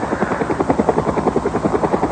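A helicopter with rotor heads and tail rotor, loud and steady, its rapid rhythmic blade chop filling the whole short stretch with no voices.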